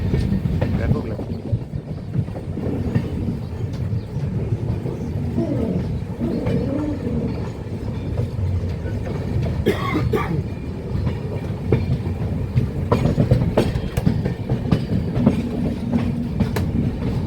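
Rail sounds at Kamakhya station in Assam, around the Deendayalu Express, a steady rumble of train cars with rhythmic clatter and a few sharp metallic clanks, voices faintly in the background.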